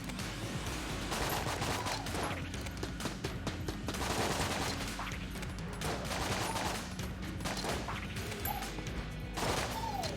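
A gun fires rapidly in the video game Enter the Gungeon, producing a dense, continuous barrage of shots and impacts that lasts throughout, with a steady, busy layer of game sound beneath.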